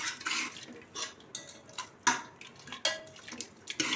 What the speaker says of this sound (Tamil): கரண்டிலே நல்லா மசிச்சு விட்டுடலாம்